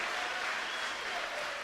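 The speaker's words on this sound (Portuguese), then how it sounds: "Dá uma salva de palmas ao Senhor em nome de Jesus." A brief, soft burst of congregational applause during a church service, steady and fairly distant, lasting under two seconds.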